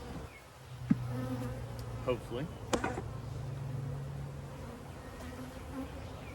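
A steady, dense buzzing of many agitated honey bees at a hive, close and continuous, with a few louder passes, while a person says a word quietly.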